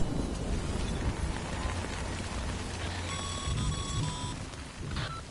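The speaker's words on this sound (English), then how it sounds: "Good thing it's raining." Steady rain in the video game Death Stranding hisses as a dense, even wash throughout, with a few electronic tones beeping over it partway through.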